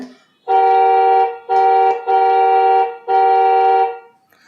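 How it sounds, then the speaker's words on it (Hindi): Four loud electronic horn beeps from a children's toy battery bike at close range, each a steady buzzy tone lasting about a second, separated by brief gaps. "ये हॉर्न का बटन है"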